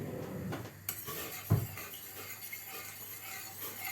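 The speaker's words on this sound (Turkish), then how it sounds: "Bir kaşık yardımıyla bir karıştırayım." A spoon stirs pekmez (grape molasses) into boiling water in a cooking pot while making İzmir gevrek, with one sharp clink about midway over a steady low kitchen hiss.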